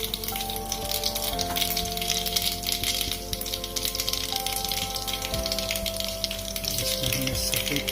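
A tempering of white sesame seeds for dhokla sizzles and crackles steadily in a pan over low heat, a dense continuous frying hiss with faint background tones and no speech.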